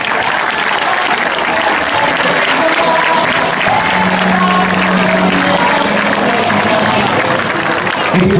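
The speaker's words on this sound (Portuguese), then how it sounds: "para a Laura, uma salva de palmas" A crowd at a festival parade applauds the festival queen, loud continuous clapping with cheering voices and background music throughout.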